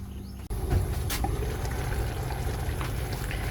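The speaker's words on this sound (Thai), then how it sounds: "ต้มฟักทองไปเรื่อยๆ จนฟักทองสุกแล้วถึงใส่น้ำกะทินะครับ" Pumpkin boiling in water in a pot makes a steady, close bubbling and simmering sound that runs unbroken throughout, with a faint clink near the start.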